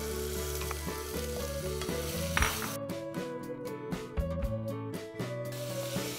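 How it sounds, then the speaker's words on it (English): Chopped onions frying in a pan for a Sindhi mutton curry sizzle and crackle steadily, with several spatula stirs and scrapes breaking through the hiss, close and continuous, without talk. "we need to brown these onions"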